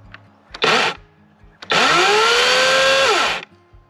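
A Greenworks Pro 80V cordless chainsaw with an 18-inch bar whirs up in a short burst, stops, then spins up again in a longer, loud, steady whine that holds and then winds down.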